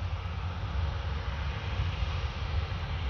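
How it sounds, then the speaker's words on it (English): Air Caraïbes Airbus A350-900 taxiing toward the runway at Orly, a low steady distant jet engine rumble and hum with no voices. "A350. Taxiing towards the runway."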